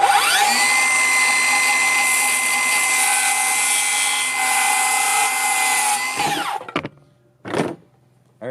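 A power saw fitted with a small built-in light runs at a loud, steady high whine for about six seconds, then spins down, followed by a short second burst and a brief tail.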